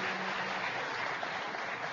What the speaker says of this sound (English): how about a big round of applause for all these great job creators